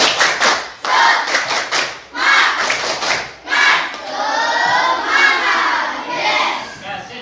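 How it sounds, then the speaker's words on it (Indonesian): Primary school class doing a rhythmic spirit clap, bursts of clapping in set patterns with children shouting along between claps, loud and close in a classroom. "ayo kita tepuk semangat dulu."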